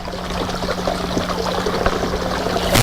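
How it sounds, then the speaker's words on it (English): Water trickles steadily over a small dam of rocks at the front of a garden pond, a soft continuous splashing stream, close and alone. "That way we get some water coming over the side there"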